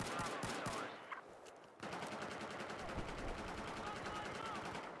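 Rapid automatic gunfire in Battlefield 4, a continuous rattling stream of shots with a short break near the middle before the firing resumes. It is loud and close, with faint bits of game sound mixed in.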